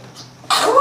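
A baby sneezes once, a short sudden burst after a near-silent moment, loud and close, with no talking over it.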